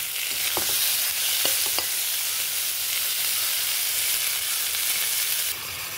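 Meat pieces frying with onions in a pan, a loud continuous sizzle with a few brief clinks of a spoon early on, close up and steady throughout.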